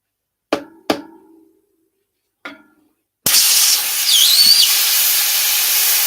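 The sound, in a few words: air hissing out from under bicycle rim sticker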